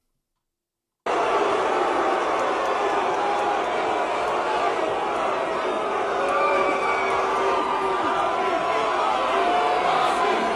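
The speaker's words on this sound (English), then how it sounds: "And then there's a chant of Maui that breaks out in the background." A large indoor crowd roars continuously and loudly, booing and chanting Maui. A steady, dense wall of voices starts abruptly after a second of silence and holds at an even level throughout.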